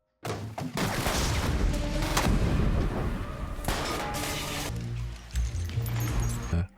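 Rapid, loud bursts of gunfire and booming blasts crackle through a chaotic shootout amid a growing fire, with heavy impacts and a dramatic musical backdrop.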